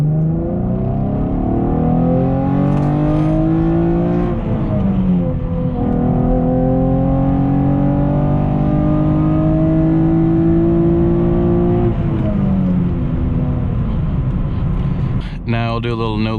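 A Camaro accelerates hard through its gears with normal lifting between shifts, the engine note climbing steadily, dipping at each shift and climbing again, loud and close throughout, ending in a brief burst of higher-pitched noise.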